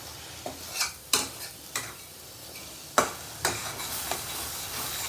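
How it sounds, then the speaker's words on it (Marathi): Spatula stirring green chilies with chole masala, red chili powder, coriander and cumin powder dry-roasting in an oil-free pan: a series of distinct scraping clacks and taps at irregular intervals over a faint dry crackle, close by, no voices. "चांगलं बिन तेलातच परतून घेते अगोदर"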